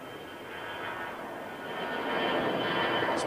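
An Aer Lingus jet in retro livery at London Heathrow gives off a broad engine roar that steadily swells louder as it nears, with no talking.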